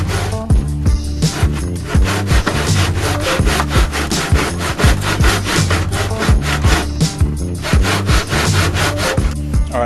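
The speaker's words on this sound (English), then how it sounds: "Alright, so I used a miter box." A hand saw cuts wood trim corners in a miter box with loud, close, rapid back-and-forth rasping strokes that continue steadily the whole time.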